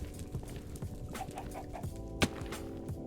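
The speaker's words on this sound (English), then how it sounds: "Definitely just heard chicken." A chicken clucks several times in the Minecraft Vault Hunters modpack game, short repeated clucks over a low background hum, ending with one sharp louder cluck.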